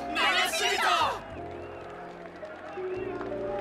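A crowd in the video game Honkai Star Rail cheers and applauds, a loud swell of voices and clapping that fades after about a second, followed by quieter ambient tones.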